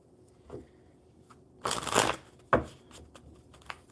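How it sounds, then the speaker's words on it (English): Tarot cards are shuffled in a crisp burst, then a sharp tap and a few lighter rustles of handling. "So, one more good shuffle."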